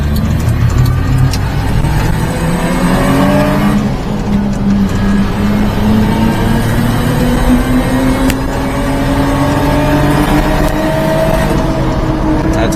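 Car engine revving at quarter throttle, a loud close drone with rising and falling pitch in repeated surges, dipping briefly between pulls.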